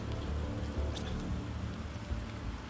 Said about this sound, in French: On a le bruit de la flotte qui ruisselle sur le